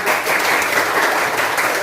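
A classroom of students applauds a classmate, a short, dense, steady burst of clapping close by, with no talk over it.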